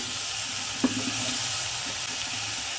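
Beet and carrot curry with onion is sautéing in a pan. It makes a soft, steady sizzle close by, with a brief clink of a utensil early on and no talking.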